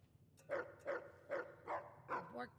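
A dog barks five times in a slow, even rhythm, the last bark breaking into a whine, fairly close against a quiet low hum.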